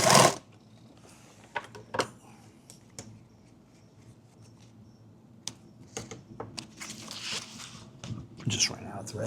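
A sewing machine stitches a mini kit bag in short, scattered bursts of rapid mechanical clatter, separated by quieter stretches with faint knocks and handling, fairly close and moderately loud.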